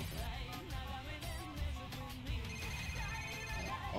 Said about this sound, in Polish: O, dzwoni Roman.